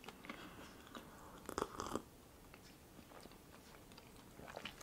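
Biting and chewing a soft bun taken with hot chocolate during an eating session, quiet close-up mouth sounds with a brief louder crunchy burst midway, no talking.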